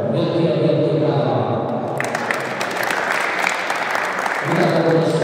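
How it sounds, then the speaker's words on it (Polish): Loud, steady clapping from a crowd at a three-on-three basketball tournament in Pińczów, Poland, continuous throughout and partly overlapping a voice at the start. "Wielkie, wielkie brawa."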